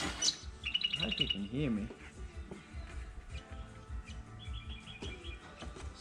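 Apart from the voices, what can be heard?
birds chirping outdoors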